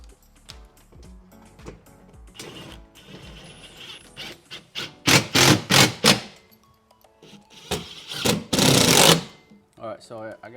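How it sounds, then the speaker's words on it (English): A screw being driven in to fix a storage shelf bracket during a home installation: bursts of whirring power-driver buzz, loudest in repeated pulses toward the end, with a person talking between them. "So I'm gonna go ahead and screw this in."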